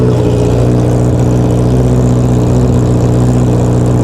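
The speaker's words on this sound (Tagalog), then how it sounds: "ito po ang ating CBR 650R at ang exhaust po natin sa kanya ngayon ay Orion yan" Honda CBR650R sportbike running through an Orion aftermarket exhaust, a steady loud, close engine drone holding a constant raspy tone throughout.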